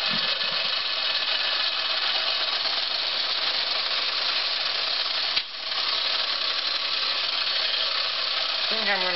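A small model steam engine runs steadily with a dense, even mechanical clatter, close and loud throughout, broken by one brief knock about two-thirds of the way through.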